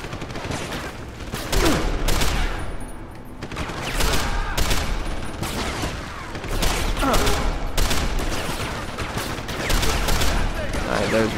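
Dense gunfire in the video game Deus Ex: Human Revolution, with rapid overlapping shots and bursts of automatic fire crackling loudly through the whole stretch, broken by brief lulls.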